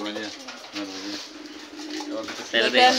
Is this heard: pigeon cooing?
yes